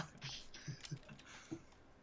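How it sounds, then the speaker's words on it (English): Fast, uneven clicks of someone typing on a computer keyboard, picked up faintly and close, with a few louder key strikes standing out over a quiet background. "Type away furiously, keyboard warrior."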